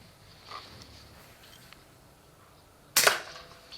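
A single sharp air rifle shot cracks out during night-time ratting, loud and close against faint background hush.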